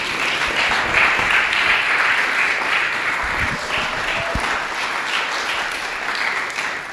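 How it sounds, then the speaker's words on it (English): Audience at a story slam breaks into sustained applause, a dense, even wash of clapping that holds steady throughout with no speech over it. "Please put your hands together for Max Young Jones."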